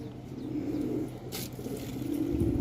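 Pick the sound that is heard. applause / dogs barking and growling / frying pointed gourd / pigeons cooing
pigeons cooing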